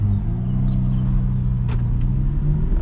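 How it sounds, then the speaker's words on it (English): Aston Martin V12 Vantage S fitted with an F1 exhaust, driving: a steady, close engine drone and rumble holding throughout, with a couple of brief higher clicks over the top. "this is the first drive of my Aston"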